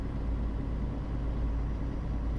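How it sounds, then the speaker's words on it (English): A heavy truck engine in Euro Truck Simulator 2 drones steadily at low revs, labouring slightly, a deep constant rumble with no voices. "You can always hear that the engine's labouring a little bit."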